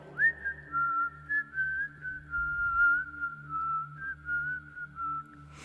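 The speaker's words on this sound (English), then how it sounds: "I always have to lick my lips before I whistle." A person whistles a sustained, wavering tune alone, close and clear, over a soft rhythmic music bed.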